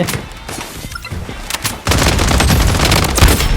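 In the Blood Strike shooter game, loud close gunfire crackles first in a few scattered shots, then becomes a dense, continuous automatic burst with heavy booming impacts.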